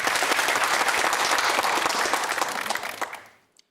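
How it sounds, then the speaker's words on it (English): A studio audience at a televised university quiz semi-final claps in a dense, steady burst of applause that holds for about three seconds, then quickly thins out and stops. "Nice to see you applauding each other"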